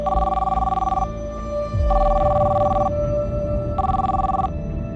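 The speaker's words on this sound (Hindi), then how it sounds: "और उसे फ़ोन किया" A telephone rings on an outgoing call, three loud electronic ring bursts about a second long, separated by short gaps and heard alone.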